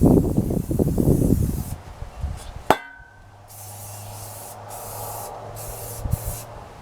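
A rust-freezing aerosol spray is applied to medieval armour, with a sharp metallic click and then a sustained hiss that comes in several bursts, close and clear, after some handling noise at the start.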